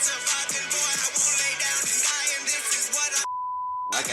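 One steady, pure censor beep blots out a swear word. It cuts in abruptly after a run of voiced, musical audio and holds for just over half a second before the sound resumes.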